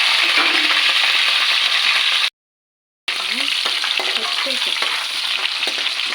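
Mustard seeds, curry leaves and green chillies fry in hot oil for a masala curry, a loud continuous sizzle with crackling pops, broken by a brief silent gap before the frying resumes.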